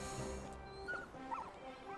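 A puppy hound in the Final Fantasy 16 video game whimpers with soft, high, wavering whines over a steady game soundtrack, quiet and close.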